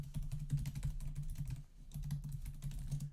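Rapid, irregular clicking of buttons being pressed on a Hit Box all-button fight controller, close and steady in bursts with a short pause midway, with no voices.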